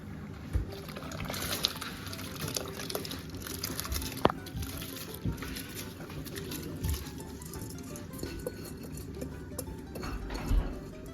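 Uncooked rice is tipped into a pot of salted water spiced with cardamom and star anise for achari chicken biryani, bringing close clinks of a metal pot and utensil, soft pattering and stirring, with no talking.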